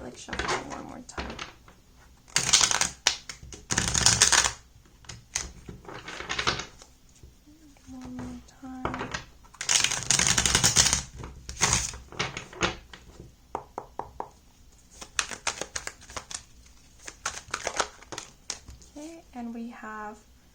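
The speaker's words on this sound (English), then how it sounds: "I feel like shuffling one more time." Tarot cards are shuffled in bursts of crisp riffling and tapping, interrupted by pauses and quiet handling noises, with a brief voice near the end.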